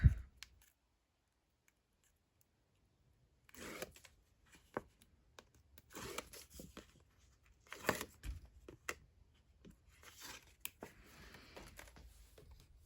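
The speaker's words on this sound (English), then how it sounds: "Just those 2 layers of tape there. Take off this tape." Strips of adhesive tape peeled off a paper folio album, heard as a series of short, dry tearing and rustling bursts at close range with small handling clicks between them, after a near-silent opening.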